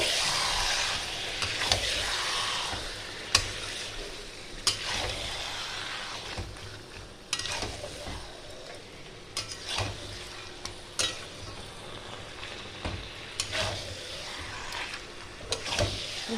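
Mutton masala stir-fried in a pan for a thin mutton curry, a low steady sizzle under repeated spatula scrapes and metallic clinks against the pan throughout, fairly close and moderate in level.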